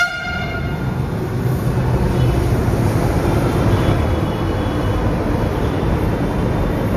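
A Delhi metro train runs with a steady, loud rumble of wheels and carriage noise heard from inside, continuous and close, with no talk.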